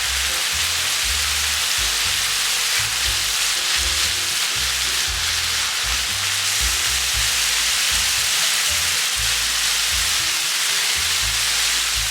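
Meat and carrots stir-fry for japchae in a hot pan, a steady close sizzle with scraping and stirring throughout, no voices.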